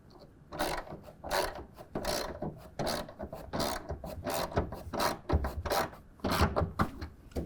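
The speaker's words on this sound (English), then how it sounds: "We're going to take a 1/2-inch wrench or ratchet. Go ahead and start snugging that down." A 1/2-inch ratchet snugs down a clamp on a soft folding tonneau cover on a truck bed, making close, repeated clicking and rasping strokes in an irregular rhythm, without talk.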